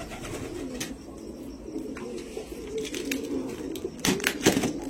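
Pigeons, the Andra breed, coo softly in a low, repeated murmur, close by, with scattered rustles and knocks around them and no talking.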